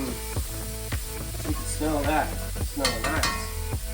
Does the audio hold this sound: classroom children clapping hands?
no